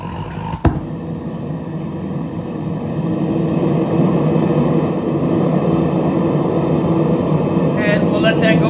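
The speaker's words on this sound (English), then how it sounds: "Now it's already hot, so I just gotta turn the gas on a little bit." A gas torch flame heats silver and copper for melting, with a sharp click followed by a steady, close roaring hiss that swells slightly and holds without a break.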